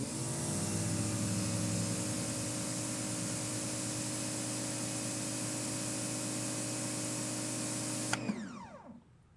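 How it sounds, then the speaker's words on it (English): An AVA Easy electric pressure washer runs through a 60-degree spray nozzle, giving a steady, loud motor drone with a hissing spray that holds for about eight seconds before shutting off and winding down. "This is the 60-degree nozzle on the Ava Easy."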